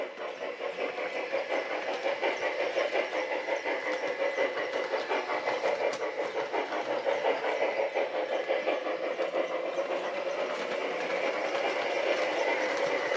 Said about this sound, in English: I speed this up, chuff rate increases.